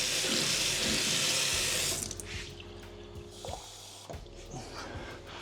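Tap water gushes loudly for about two seconds, then cuts back to a quieter trickle with a few clinks and knocks of handling nearby.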